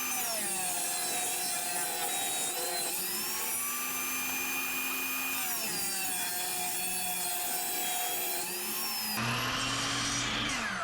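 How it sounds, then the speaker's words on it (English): A power saw cutting 1x1 wooden strips for mushroom drying racks, a loud steady whining drone with pitch dipping as the blade bites into the wood, pausing briefly between cuts. "Now we're just cutting some strips here, 1x1s, for our drying racks and flashing racks."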